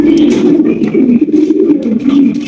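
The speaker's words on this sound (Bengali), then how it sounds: "রয়েছে একজোড়া শৌখিন গেটআপের বিশাল সাইজের একজোড়া কিং কবুতর" A pair of large king pigeons coo continuously and close by in a low, throaty, rolling murmur, loud and unbroken.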